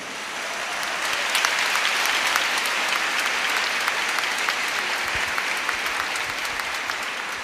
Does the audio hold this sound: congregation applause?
yes